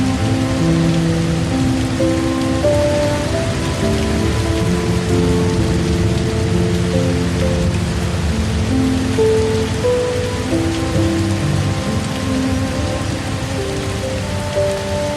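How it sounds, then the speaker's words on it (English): Steady rain falling on a rainforest treehouse in Costa Rica at night, a dense, even patter continuing throughout with scattered drips and a faint low rumble beneath, no voices. "The rain will take care of everything."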